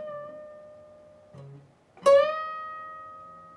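Slow guitar phrase from a solo: a held note, a brief low note, then a strongly picked, bent note ringing out with a long sustain, played alone.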